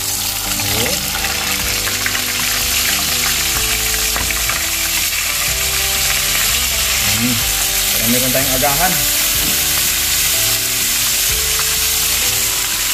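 Steady loud sizzling of tilapia frying in hot oil in a pan fills the whole stretch, with occasional stirring and a person speaking briefly over it.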